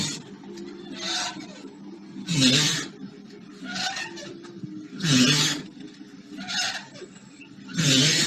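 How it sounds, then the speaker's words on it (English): A swing creaks rhythmically back and forth, each rasping squeak rising and falling in a slow, regular cycle, close by. "This is the sound of a swing"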